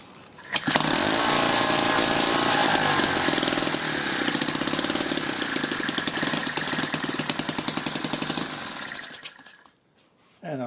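A Lynx15 small two-stroke engine running indoors on two-stroke mixture, a loud, steady buzzing drone with rapid firing pulses for about nine seconds before it cuts off abruptly, followed by near silence and a faint noise at the end.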